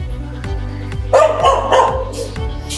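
A dog barks repeatedly at close range, a run of sharp, loud barks with brief pauses between them.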